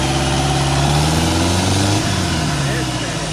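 A diesel Jeep Wrangler engine cranks and catches, then settles into a loud, rough idle close by, its pitch wavering and rising slightly while someone talks over it.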